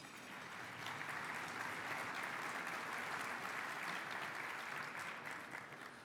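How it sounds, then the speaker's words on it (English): A sustained round of applause from the audience at a city's State of the City address, steady even clapping for several seconds, moderately distant and with no voices over it. "Please give them a round of applause."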